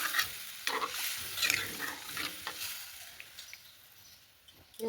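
Broth poured into sautéed vegetables in a home kitchen pan, with a bright sizzle and scraping stir strokes at the start that settle into a quieter simmering hiss, close and without talk.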